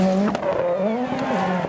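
A Peugeot rally car launching over a jump, its engine whining loud and close in a steady, slightly wavering pitch as it passes.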